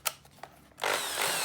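A secondhand Black and Decker hammer drill runs on its hammer function: a few short clicks, then it starts loudly at close range and holds a harsh, steady whine to the end.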